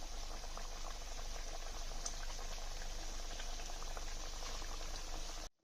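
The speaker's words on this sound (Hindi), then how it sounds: "हम इनको भी डीप फ्राई कर लेते हैं।" Whole wheat flour biscuits deep frying in oil over a low to medium flame, a steady bubbling hiss at moderate level that continues unbroken before cutting off abruptly at the end.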